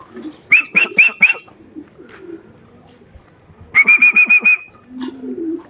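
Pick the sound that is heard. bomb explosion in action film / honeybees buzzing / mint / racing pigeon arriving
racing pigeon arriving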